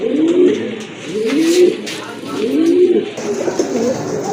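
Pigeons at a farm selling pairs give a series of throaty coos, four rolling calls at a steady rhythm, close and clear over a faint background murmur.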